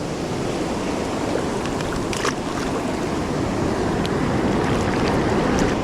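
Ocean surf rolls and breaks steadily at a beach where people fish from the shore, forming a continuous broadband wash with faint splashes and no voices.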